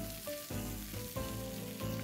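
Carrots tipped into a hot frying pan while cooking vegan cabbage rolls, giving a steady close sizzle with a few soft surges as the pieces hit the oil.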